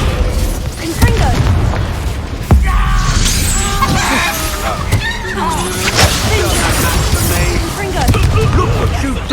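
Fiery Confringo spell blasts in Hogwarts Legacy, heavy booms and crashing impacts layered over a dense, noisy battle with shouting and screeching voices throughout.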